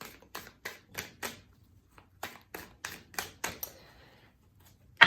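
Tarot cards shuffled by hand close to the mic, a series of crisp riffling snaps and taps in uneven bursts with short pauses between, no talking.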